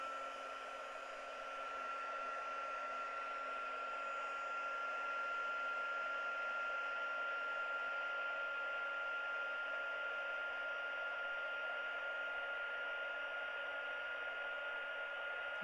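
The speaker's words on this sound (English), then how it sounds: "I'm going to turn on my heat tool" A handheld heat tool blows hot air in a constant, breathy roar with a faint steady whine riding on top, close and unbroken, with no voices.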